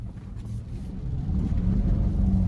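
A 2018 Nissan Armada Platinum with a 5.6 V8 and about 83,000 miles pulls away on a test drive. The engine rumbles low and close, rising steadily as it accelerates, with no talking.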